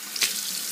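Cold water running steadily from a bathroom tap into a sink, a continuous close splash with a brief louder gush near the start.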